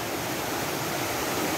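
A swollen, rain-fed river rushes past in a steady, dense broadband roar, close and continuous with no pauses and no voices over it.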